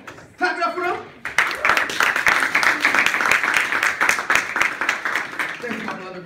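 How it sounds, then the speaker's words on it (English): Audience clapping for two volunteers at a gang awareness seminar at Rutgers University, a dense burst of applause that swells after brief talk and carries on steadily, with a voice speaking at the start and end. "Come on, clap it up for them."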